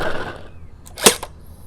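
A Gel Erupter Z gel blaster fires one single shot, a sharp, loud snap standing alone after a brief stretch of fading noise, with a short mechanical rattle right after.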